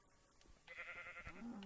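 Sheep in the Minecraft video game give a short, faint bleat with a wavering tone, quiet and brief at the end of the moment.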